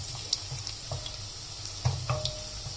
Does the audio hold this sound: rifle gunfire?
no